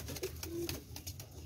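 Pigeons of a highflyer breed coo softly at home, with a few low murmuring calls over a short, quiet stretch and a faint tap or two.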